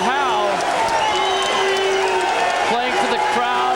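Boxing arena crowd applauding and cheering in a steady, dense wash at a bout between Alex Stewart and Jamie Howe, with a commentator's voice talking over it throughout.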